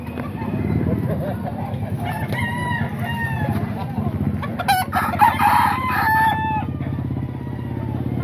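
Roosters crow loudly and chickens cluck at a budget chicken market in Baliwag, Bulacan, with several overlapping crows close by over a low motor rumble and background voices.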